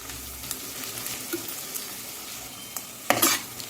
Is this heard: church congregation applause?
no